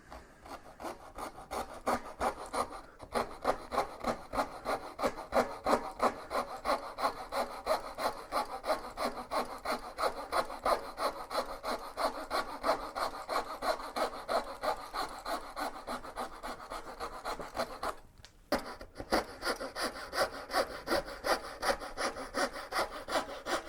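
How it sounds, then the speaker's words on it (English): A small hand saw cuts the corners off a piece of wood with steady, rhythmic back-and-forth strokes, close and continuous for over twenty seconds, with two brief pauses and faint breathing underneath. "I'm going to use my little saw here to remove these corners as best I can"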